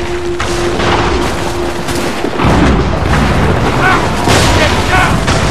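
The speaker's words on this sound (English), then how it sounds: "Get down! They're firing!" Enemy gunfire in the Assassin's Creed 3 video game: a loud boom followed by a dense rattle of shots and bursts, with a voice shouting over the din.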